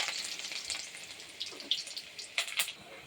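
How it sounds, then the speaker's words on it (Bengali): Crushed garlic and dried red chillies sizzle in hot oil as a tempering, a steady moderate crackle with a few sharper pops toward the end, no voices. "এবারে আমি শুকনো লঙ্কা আর একটু রসুন থেতো করে নিয়েছি, এই দেখো, এগুলো ফোড়নে দিয়ে দেবো।"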